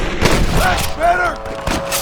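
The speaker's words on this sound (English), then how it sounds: "Fine shooting, boys." Rifle gunfire in a Red Dead Redemption shootout with rustlers, several sharp shots cracking close by amid shouting voices and busy game ambience.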